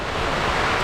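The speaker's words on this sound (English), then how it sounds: "Wind has got up a wee bit as well, so sort of some fairly hefty gusts" Heavy rain drums steadily on a tent at night in the Mourne Mountains while hefty wind gusts buffet it, a dense, unbroken roar held close and loud throughout.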